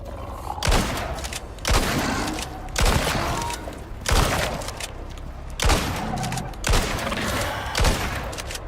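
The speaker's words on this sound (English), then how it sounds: "I'm shooting you point blank." Repeated close-range gunfire in the video game Icarus, about eight loud sharp shots spaced roughly a second apart, each with a short booming tail, over a steady background hum.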